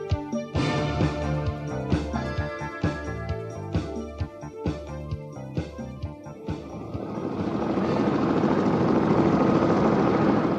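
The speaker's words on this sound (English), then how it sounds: "The helicopter took off and climbed slowly into the sky." A helicopter starting up and lifting off: heavy rotor thumps beat in a steady rhythm at first, then blend into a loud, rising continuous roar of engine and blades.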